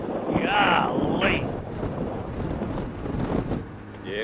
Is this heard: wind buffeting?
yes